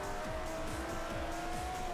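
A race car in Forza Motorsport 4 brakes hard into the first corner. The engine drones loudly and tires squeal continuously over a rapid series of revving gear pulses, with no talking.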